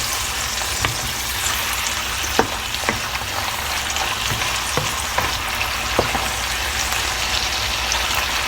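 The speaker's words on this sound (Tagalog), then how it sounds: "Ayan lang natin po siyang kumulo ng kumulo" Meat seasoned with salt and soy sauce bubbling and sizzling steadily in a pan, a continuous close hiss dotted with occasional soft pops and clicks, with no voices.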